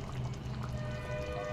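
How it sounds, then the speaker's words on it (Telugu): Water is poured into chicken curry cooking in a pan, making a steady, close splashing pour over a low background hum, with no talking. "కొంచెం వాటర్ అయితే పోసుకున్నాను నేను"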